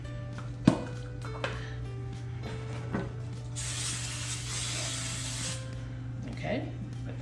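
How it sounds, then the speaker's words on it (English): A short hissing burst of cooking spray onto a pan lasts about two seconds, set against a steady low hum and a few clinks of kitchen utensils. "I'm going to go ahead and spray my pan like I always do."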